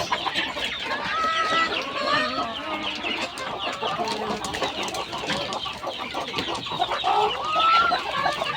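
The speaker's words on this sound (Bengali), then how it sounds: "এগুলো হলো আমার দেশি মুরগির প্যারেন্টস" Native deshi chickens, parent stock on a farm, cluck steadily in a close, busy chorus, with overlapping calls from several birds throughout.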